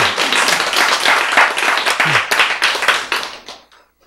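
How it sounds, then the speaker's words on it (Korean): Audience applause in a church sermon setting, a dense burst of many hands clapping together for about three seconds, loud and close, then quickly dying away to silence. "박수."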